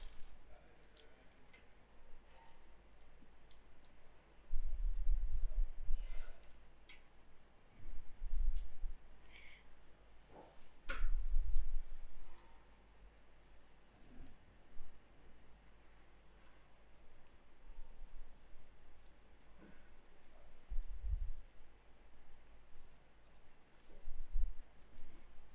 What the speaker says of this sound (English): Now we are going to place the motor bolts